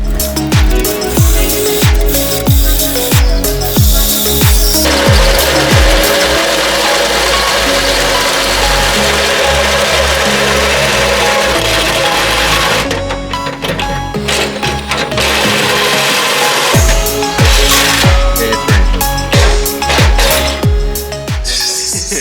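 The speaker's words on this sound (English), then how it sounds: "Now what I'm gonna do is drill a hole here" A power drill whines steadily and loudly as it bores a hole in a Ford EF XR6 car frame, its pitch dipping and rising as it bites, with short pauses and restarts near the end.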